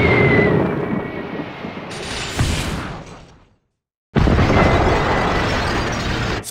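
A missile hits its target in an Ultraman Orb TV episode and a loud, roaring explosion rumbles for several seconds, drops into a brief silence, then a second blast surges back just as loud.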